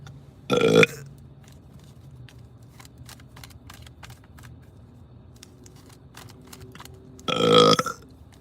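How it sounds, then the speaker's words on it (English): Two loud, close burps from a person, one near the start and another near the end, separated by a quiet stretch of faint rustling and soft clicks. "It's a spiritual burp."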